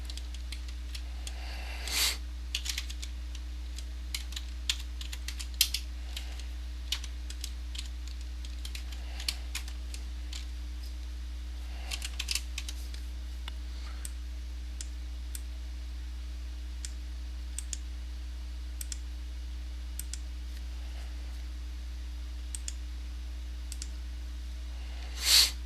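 Someone types on a computer keyboard, with sparse, soft clicks scattered throughout, a few louder taps, over a constant low electrical hum.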